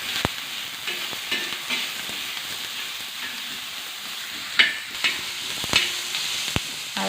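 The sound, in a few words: finely chopped onion frying in oil on a pan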